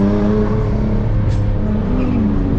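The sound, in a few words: car drifting at a JDM car meet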